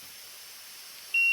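Oil pressure warning beep on a Fiat 238 van: a single steady electronic tone starts near the end and holds, loud and clear over a faint background hiss.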